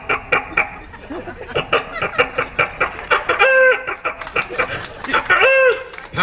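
A human voice mimics a hen's clucking in quick bursts, then breaks into rooster-like crowing calls, loud and close.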